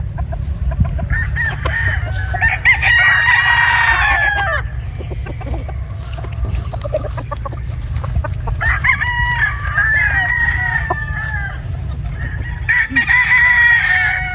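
Bullstag roosters crow repeatedly, with several loud, drawn-out calls rising above a low, constant rumble of farmyard background noise, close to the microphone and without speech.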